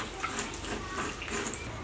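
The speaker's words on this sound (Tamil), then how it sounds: "மகேஷ் வந்து அம்மி கழுவிட்டு இருக்கு" Water splashes and trickles steadily as an ammi stone grinding slab is washed down at home before grinding, a soft continuous wash with no clear talk.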